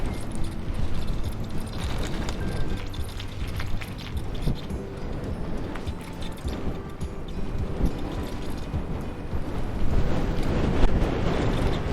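Wind buffets the microphone outdoors in a shaded spot, a continuous rough blustery rush with uneven gusts that swell louder toward the end.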